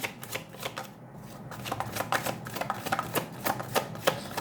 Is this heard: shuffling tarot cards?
yes